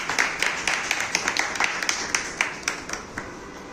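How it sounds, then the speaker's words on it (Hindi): A small crowd at a community event in India claps steadily to welcome a speaker, the scattered hand claps forming light, moderately loud applause with no talking. "तालियों से स्वागत कीजिए"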